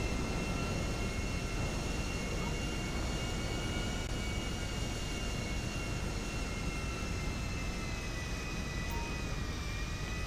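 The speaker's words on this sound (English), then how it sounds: "Oh, look at this golden plane." The engine of a golden plane in a video game gives off a continuous loud, even drone that holds steady throughout, with no talking.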